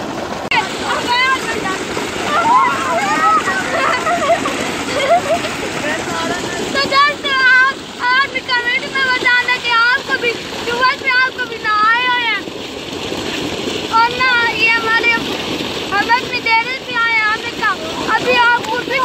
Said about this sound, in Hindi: ओए गंदा पानी आ रहा है ऊपर।